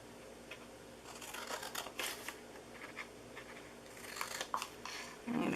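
Scissors snip through paper or card stock, cutting narrow strips for a handmade treat box with a window, in a series of close, quiet crisp cuts at an uneven pace.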